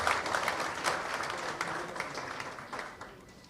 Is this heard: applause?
yes